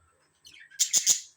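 Budgerigars chirping inside a cage: a few quick, bright tweets come close together at the end, after a brief softer squeak, with no talking.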